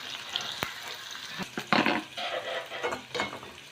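Two finely chopped onions sauté with cumin in hot oil for a dhaba-style bhindi masala. Steady sizzling runs throughout, broken by scraping stirs and sharp clinks of a utensil against the pan.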